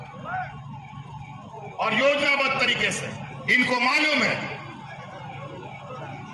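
An ambulance siren wails through a dense crowd at a street political rally, steady and moderately close beneath a loud amplified speech and crowd noise.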